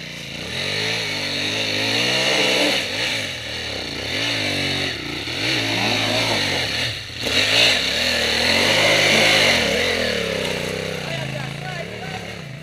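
An enduro motorcycle engine drones and revs loudly and continuously while climbing a hill, pitch rising and falling as it climbs and eases off, with almost no pause.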